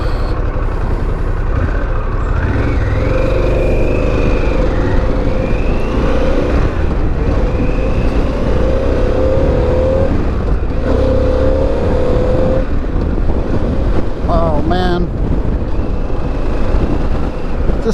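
A Harley-Davidson Pan America motorcycle ridden hard in sport mode, its engine droning and rising through gears against steady loud wind rush, with brief shifts and a short sharp whine near the end.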